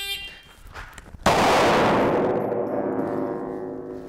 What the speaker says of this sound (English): let's go ahead and use this random start timer